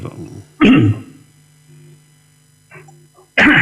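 A man clears his throat and coughs during an Islamic lecture Q&A, two sharp bursts separated by quieter moments with faint mains hum and a brief murmur between them.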